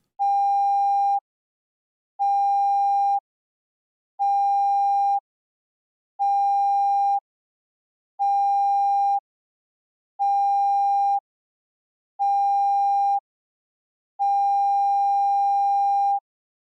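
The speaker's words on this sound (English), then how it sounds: "7 short blasts and 1 long blast of the ship's alarm, is the general emergency signal" A loud electronic ship's alarm sounds seven short, evenly spaced blasts followed by one longer blast, the general emergency signal, steady and unaccompanied.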